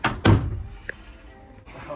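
A door on a 2018 Leopard 45 catamaran opens or shuts with a single solid thunk near the start, followed by quieter knocks and handling noise close by.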